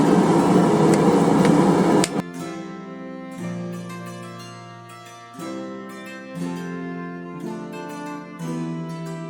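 A railroad spike is hammered on the horn of an anvil, giving a run of bright ringing metallic strikes that sustain and decay between blows, loud and close, after a brief rougher noise at the start.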